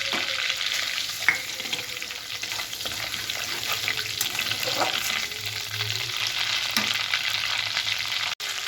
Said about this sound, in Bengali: শুকনো লঙ্কা তেজপাতা আর গোটা জিরে আমি ফোড়নে দিয়ে দিলাম